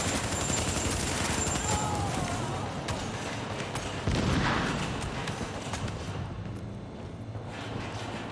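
Dense, rapid gunfire in a firefight in the video game Tom Clancy's The Division, with loud overlapping bursts of shots and a heavier thump midway, and no talking.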